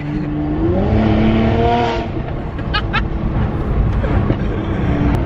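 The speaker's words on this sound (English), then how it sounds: "What a machine. 460 brake horsepower is not to be shied at either." A Stage 2 Mercedes-Benz C43 AMG tuned to 460 bhp accelerates with a rising engine note, then settles into a steady loud cabin roar of engine and road noise.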